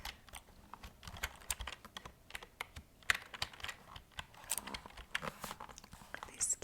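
An old, removable-keyset computer keyboard is handled and typed on up close, giving quiet, irregular clicks and clacks with some rustling in between, like a soft, intimate gaming-setup demonstration.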